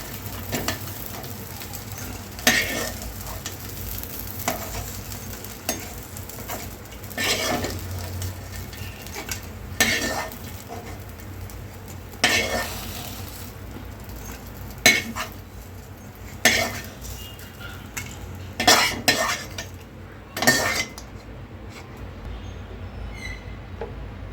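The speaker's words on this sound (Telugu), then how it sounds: "చూడండి, ఇలా దోరగా వేపుకోవాలండి మిల్ మేకర్." Soya chunks (meal maker) frying in a pan, stirred with repeated metallic scrapes and clinks of a utensil over a soft, steady sizzle, close and fairly loud, with no talking.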